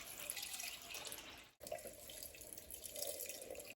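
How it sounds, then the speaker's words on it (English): Tap water pours steadily into a container for chicken cabbage soup, a continuous close splashing rush that breaks off briefly and then resumes at full flow. "reuse my container and fill this a few times with water"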